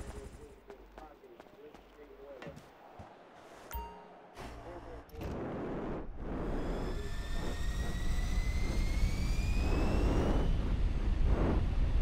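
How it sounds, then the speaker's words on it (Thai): An F-35 fighter jet passes at an army air show. A distant rumble grows into a loud, sustained jet roar with a whining, rising engine tone. Voices and scattered handling noises can be heard before the roar takes over. "F-35 ว่ะคุณผู้ชมเครื่องบินแห่งยุค"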